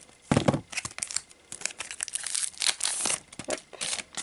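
A Pokémon card booster pack's plastic packaging crinkles and tears in quick, irregular bursts, close up and fairly quiet, with no voices.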